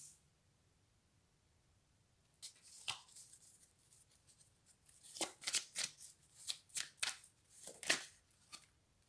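A tarot or oracle card drawn back out of a deck, with crisp papery slides and flicks of cards in a quiet room, a brief rustle followed by a run of close, irregular shuffling snaps.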